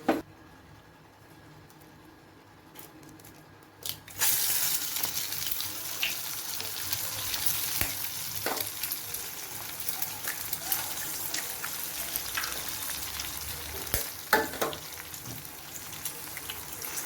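Five eggs frying in oil in a kadai, a steady broadband sizzle that starts abruptly a few seconds in after a quiet stretch and continues with occasional pops and crackles.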